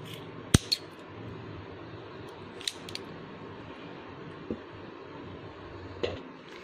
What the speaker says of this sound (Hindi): डबल नोट लगा के जहाँ से फोल्ड है वहाँ से काट देंगे